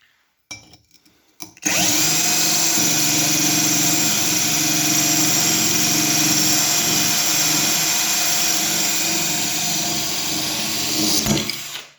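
A power drill bores a hole through a sheet of glass: after a brief quiet start, a loud, steady, high grinding whine runs nonstop for about ten seconds, then cuts off.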